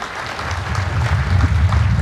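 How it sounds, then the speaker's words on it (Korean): Crowd applause at a combined army, navy and air force academy commissioning ceremony, broad clapping that swells toward the end over a low rumble of the large venue. "수상자들에게 다시 한번 힘찬 축하의 박수 부탁드립니다."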